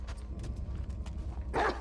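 A dog in The Last of Us Part II gives a single short bark near the end, after quiet shuffling game sounds.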